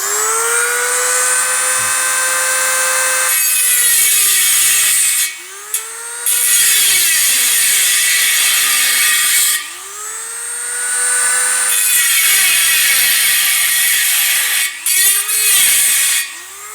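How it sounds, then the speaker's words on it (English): Dremel rotary tool grinding and cutting, a loud, steady high-pitched whine, close by, with brief pauses and the pitch dipping as the bit loads up against the workpiece. "as long as I stay with the Dremel close to the inside line, then I shouldn't have a problem, and I can grind out to the outside line when all this is cut"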